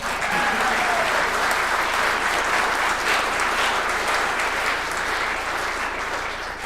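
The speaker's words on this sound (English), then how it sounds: "And as well, you can clap, that's fine." Steady sustained applause from the audience at a village council meeting, a dense even wash of clapping that holds for several seconds before easing slightly.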